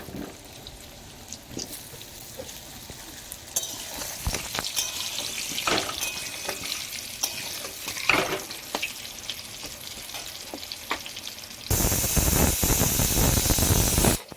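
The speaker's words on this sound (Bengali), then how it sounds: "এইদিকে আমি আলুটা ভেজে নিচ্ছি।" Potatoes frying in oil for a goat curry, a steady loud sizzle with occasional stirring clatters that intensifies into a harsher hiss near the end.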